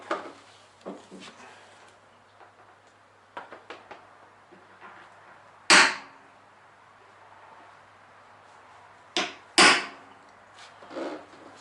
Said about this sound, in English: Centre punch these two holes.